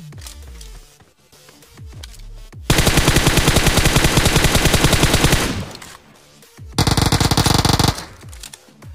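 Two long bursts of rapid automatic gunfire in BGMI (Battlegrounds Mobile India), loud and close, separated by a quieter stretch with scattered shots and clatter.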